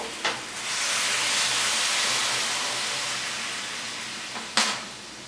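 Water poured into vegetables frying in spiced oil for a fish curry, a loud sustained hiss of steam and sizzle that slowly fades, with a clank at the start and end.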